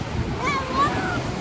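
Ocean waves wash onto the shore after a storm, a steady broad surf hiss with a slight swell in the middle, close by and fairly loud, with faint wind noise mixed in and no clear speech.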